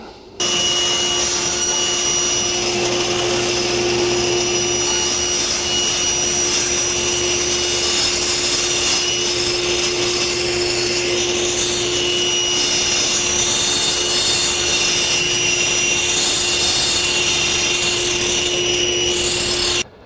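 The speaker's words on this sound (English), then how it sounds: "All we need to do is start everything and slowly raise the blade up." A table saw and its dust collector run together as the blade is slowly raised up through a zero clearance insert, giving a loud, constant machine drone with a steady tone and faint rubbing of the blade cutting wood.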